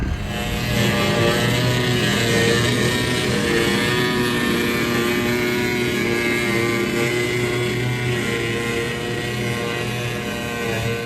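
Steady, loud mechanical drone of a forage chopper running continuously with its fan rubbing, a harmonic whine and constant rumble, no voices.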